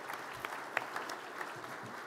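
An audience at the ASA Summit 2022 government affairs session gives a brief, moderately distant round of clapping, steady for about two seconds with no voices over it.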